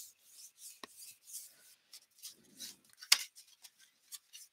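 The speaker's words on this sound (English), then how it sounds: "I'm just burnishing down with my fingers" Fingers burnish paper down onto a card in a mini book craft, making faint soft rubbing strokes in an uneven rhythm, close and quiet, with a light tap partway through.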